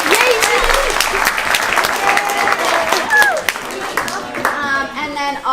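An audience at a school coding event claps loudly and steadily, with children's voices and cheering woven through the applause.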